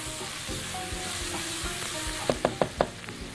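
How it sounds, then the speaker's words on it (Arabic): Onions and a sprinkle of spices sauté in a pan for an okra tagine, a steady close sizzle with soft stirring, then four quick, sharp knocks of the utensil against the pan near the end. "رشه من البهارات تتحمص واحنا شغالين وبنشوح البصل"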